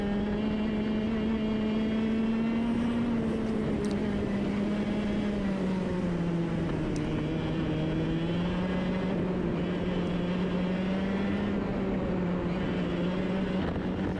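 Racing karts at a karting round circle a racetrack, their engines making a steady, buzzing drone with a slight dip and rise in pitch. The sound carries on without a break and there is no talk.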